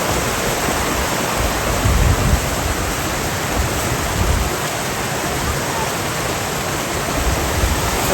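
Rushing water roars just above a waterfall's drop on a family camping trip, a loud, continuous broadband wash that stays steady and close throughout with no voices.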